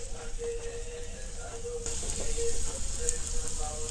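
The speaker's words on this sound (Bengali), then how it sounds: "দেখুন এখন একটা একটা করে তেলের মধ্যে দিলাম।" Taro flower pakoras sizzle in hot oil as pieces are dropped in one by one, giving a close, steady crackle that grows louder and busier partway through.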